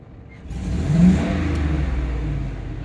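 A car engine revs up sharply, peaks after a second, then holds a steady rumbling drone at raised speed, on a car with an exhaust leak.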